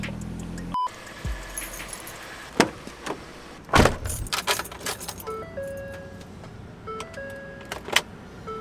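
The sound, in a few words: pickup truck being started and moved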